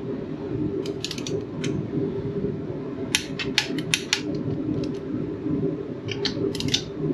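Torque wrench tightening bolts on a Kioti CS2520 tractor, several sharp metallic clicks in short clusters over a steady low background hum, close by with no talking.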